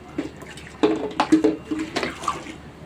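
Liquid is poured into a container for a Mentos experiment at home, giving intermittent splashy gurgling bursts at moderate volume with brief pauses between pours.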